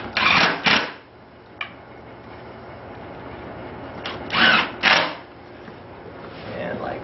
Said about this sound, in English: put the 4 little black screws in the bottom, like that